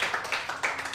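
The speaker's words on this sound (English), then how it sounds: "Please a round of applause for MC." An audience at a fireside conversation event applauds for a speaker in a short, brisk burst of clapping from many hands. The clapping is moderately loud and carries on steadily.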